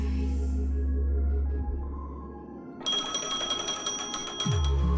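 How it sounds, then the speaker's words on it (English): A telephone rings in the video game Honkai Star Rail, a bright, continuous electronic ring that cuts in partway through over a low, steady musical drone. "Okay, telepon bunyi."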